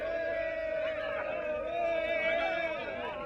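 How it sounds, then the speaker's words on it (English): A crowd waits outside Fort Usher prison in Ghana for the release of political prisoners, with a steady hubbub of voices and shouts heard under a narrating voice. "Outside Fort Usher prison, the crowd are waiting for the release of more of Nkrumah's political prisoners."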